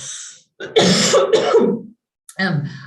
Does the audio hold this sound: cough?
yes